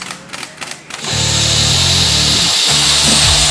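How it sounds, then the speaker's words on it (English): A 1-inch impact gun turns diesel engine head bolts a further 90 degrees after torquing, starting with a few short taps and then hammering loud and steady at close range for over two seconds. "We're going to go another 90 degrees with our 1-inch impact gun."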